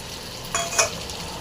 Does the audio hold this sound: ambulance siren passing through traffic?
no